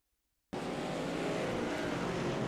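Race cars on the Circuit of the Americas track in an HVRL Championship race come in abruptly after a brief silence, a continuous loud engine roar that holds steady to the end, with no voices.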